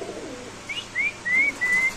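Caged pigeons stirred by hand give a few short, bright calls in quick succession, rising in a brief series close by over soft rustling.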